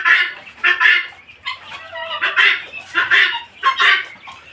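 White Chinese chickens on a small farm cluck in repeated bursts, a steady run of close, fairly loud calls with short gaps between them and no talking.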